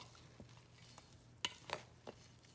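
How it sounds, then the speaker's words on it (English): A spoon stirs and mashes boiled potatoes in a bowl for potato salad, giving a few soft, wet squelches and scrapes, two slightly louder near the middle, over a quiet background. "Stir it and mash it."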